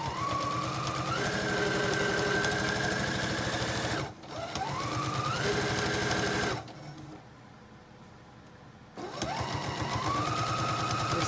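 A sewing machine stitches fabric for a small dresser tray, running steadily with a loud rapid motor whir and needle clatter, pausing briefly, slowing and quieting for a couple of seconds, then picking up speed again.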